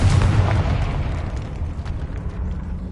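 Confringo fire spell explosion in the Hogwarts Legacy video game, a heavy close boom with a deep rumbling burst that decays over about three seconds.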